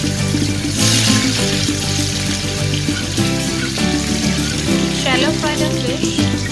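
Pieces of fish go into hot mustard oil in a pan over a medium flame. A bright, dense sizzle and crackle of frying carries throughout, with background music running under it.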